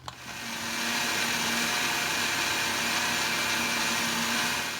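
A blender grinds peanut sauce ingredients for batagor with added water, giving a loud, steady whirring roar that starts abruptly and holds constant throughout, with no talking.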